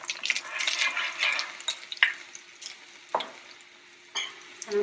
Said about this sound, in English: I'm going to put cumin seed first and let it roast. And as you see, this is sizzling.